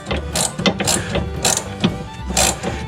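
Ratchet and socket tightening a lower bolt on a 2000 Chevy Impala's suspension, a series of quick close clicking bursts in a steady back-and-forth rhythm, with no talking.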